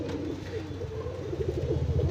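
A tail-closed (dum) pigeon coos softly in low, rolling murmurs over a continuous dull background rumble, close by and without talk.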